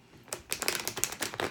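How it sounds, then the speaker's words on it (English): Tarot cards being shuffled by hand, a quick run of soft papery riffs and flicks, close and fairly quiet, with no voice over it. "Shuffling a couple of cards here."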